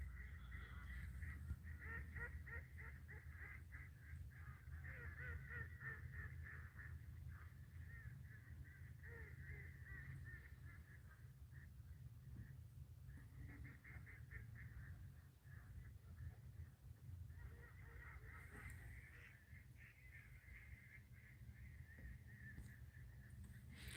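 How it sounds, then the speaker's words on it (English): Ducks quacking at night: a flock gives harsh, honking quacks in repeated bursts over a low steady background hum, moderately close and continuing throughout with brief lulls. "we're listening to ducks quack"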